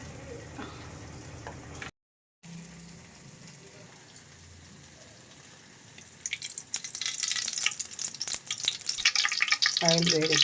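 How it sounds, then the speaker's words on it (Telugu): Mustard seeds hitting hot oil for an old-style brinjal tomato curry: a soft fry hiss, a brief dropout, then a loud crackling, spattering burst toward the end; no talking. "ఆయిల్ వేడెక్కినాక ఆవాలంటే సాతాలండి"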